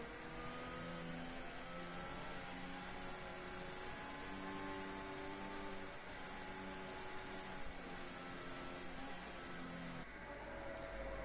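Racing car engines in an F1 video game at Interlagos, a McLaren weaving on the grid before lights out: a steady, loud, droning multi-car engine hum with gently rising and falling pitch, continuous and without talk.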